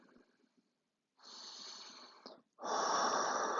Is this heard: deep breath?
yes